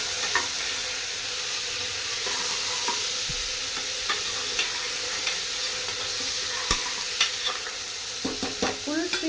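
Onions fry with cinnamon and cloves in a hot pan, a constant bright sizzle broken by sharp stirring clacks of a spoon against the pan, growing busier toward the end.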